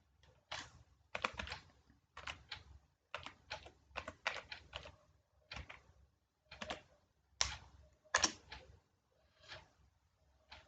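Password keystrokes on a computer keyboard in a quiet room, with irregular bursts of crisp, close clicks separated by short pauses.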